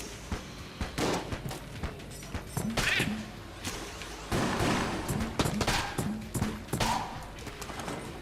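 A t-shirt cannon fires repeatedly in the video game Enter the Gungeon, with dense overlapping shots, thuds and impact noises in steady chaotic bursts amid game sound.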